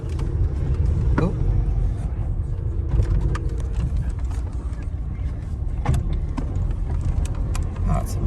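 A car with a brand-new clutch drives along, its low engine and road rumble steady throughout, with a few faint interior rattles and clicks.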